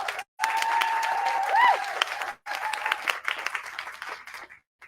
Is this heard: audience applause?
yes